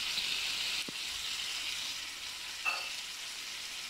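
Chicken fries in a pan as garlic-ginger paste is added, giving a soft, steady sizzle heard close up, with a couple of faint clinks and no talking.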